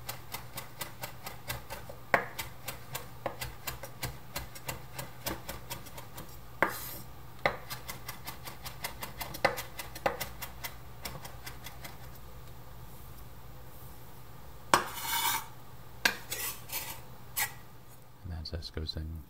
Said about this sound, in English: We will chop up the orange zest into little pieces.